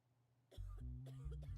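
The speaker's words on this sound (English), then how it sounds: "that Karen back there just coughed again" A person in the background gives a short burst of two or three faint coughs, quiet and somewhat distant, with no talking over them.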